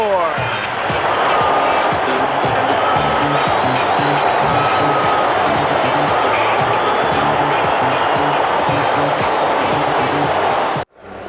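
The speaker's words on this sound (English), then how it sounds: "Look at this crowd on their feet as we end 3 innings." A packed Veterans Stadium crowd at the 1980 World Series, Phillies against the Royals, roaring steadily on their feet at the end of the third inning, a dense continuous wall of cheering that cuts off abruptly near the end.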